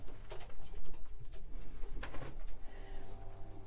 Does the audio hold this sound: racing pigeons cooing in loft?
yes